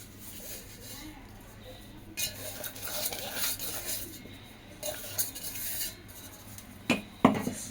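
A spoon scrapes and clinks inside a bowl as donut dough is mixed with sugar, with irregular stirring rubs and a couple of sharper knocks near the end, mostly quiet and close.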